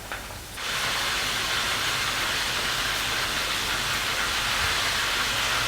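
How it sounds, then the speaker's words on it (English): Beef pieces deep frying in hot oil, a steady dense sizzle that swells in after a brief quieter start and holds loud and continuous throughout, with no talking. "Deep fry for about 2 minutes or until the sides begins to turn color"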